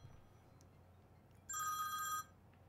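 A telephone rings once in a short electronic trill, clear but moderately quiet over a low background hum, with no talking during the ring.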